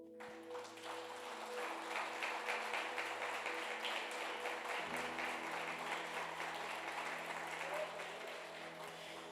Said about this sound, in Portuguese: É isso aí, aplauda o Senhor.